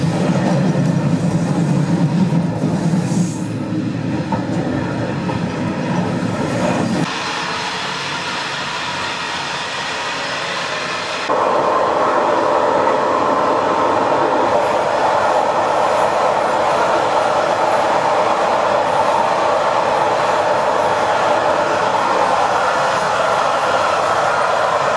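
A passenger train between Prague and Hradec Králové, Czech Republic, rumbles steadily along the rails for a long stretch, loud and close from inside the carriage, its tone shifting as it rolls on.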